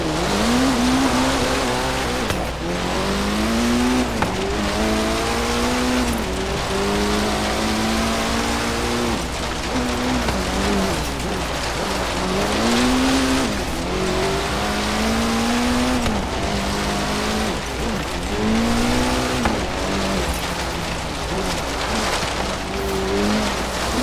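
A car driven in Forza Horizon 3, a small Subaru BRZ-style sports car, its engine revving and shifting continuously at close range while tires squeal repeatedly through turns, with no speech over it.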